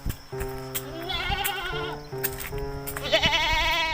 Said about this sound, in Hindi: थोड़ी दूर चलने के बाद उन दोनों को बकरे की सी आवाज आती है।